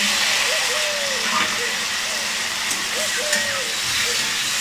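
Chopped tomatoes hit hot, freshly fried masala for egg curry, raising a continuous loud sizzling hiss that carries on under a voice talking throughout.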